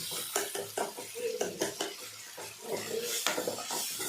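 Brinjal sautés in a pan for thokku, a soft sizzle beneath repeated scraping and clinking of a spoon stirring against the metal, close up and fairly quiet.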